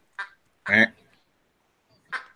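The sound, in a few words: dog toy that sounds like a duck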